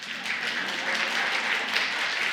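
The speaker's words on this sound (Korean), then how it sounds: "우리가 박수 쳐드리고 싶어요" Church audience at a New Year revival service clapping together, a steady dense wash of hands sustained throughout at moderate loudness.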